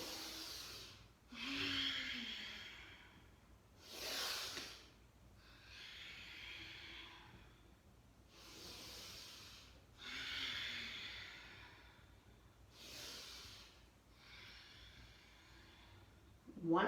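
During a home yoga practice, long audible breaths come in a slow, regular rhythm, soft and somewhat distant, with faint quiet voice sounds between some of the breaths.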